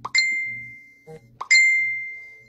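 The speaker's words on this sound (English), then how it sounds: "Now, the dinging is, I'm getting messages." Two bright notification dings from a phone receiving messages, the second about a second and a half after the first, each ringing out and slowly fading, with quiet scraping of paste in between.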